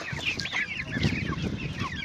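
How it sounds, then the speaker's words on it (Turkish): Two-month-old pullets clucking in a coop, a busy flock of overlapping chirps and clucks close by, continuous and fairly loud. "Şöyle bir de alttan gelen yarkalarımıza bakalım arkadaşlar."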